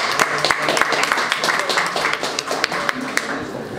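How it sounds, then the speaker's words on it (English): An audience at a BUIDLBoston hackathon gives a round of applause as a pitch speaker takes the stage. Scattered, moderately loud claps ring out unevenly with a few sharp accents, and talk is mixed in. "Give it a round of applause."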